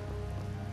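Steady video game rain patters on a surface, with an even hiss and no pauses through the whole moment.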